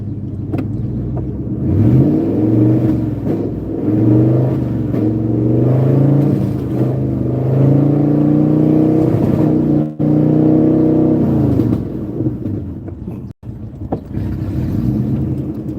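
An old vehicle engine revs high and unevenly with its timing suspected off, a loud, close, sustained roar that rises and falls in pitch, briefly dipping before settling back.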